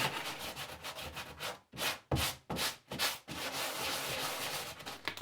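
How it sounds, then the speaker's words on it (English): A scraper rubs texture off a drywall patch area in a series of rough, gritty strokes, with a few distinct back-and-forth passes in the middle, heard close and without talk. "just try and scrape the texture off."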